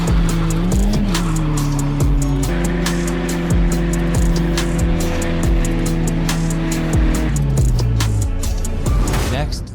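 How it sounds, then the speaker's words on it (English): A green truck revs hard through a burnout, its engine droning loudly and shifting pitch repeatedly over nearly ten seconds, with tire squeal and a voice over the roar. "I'm gonna do a little burnout."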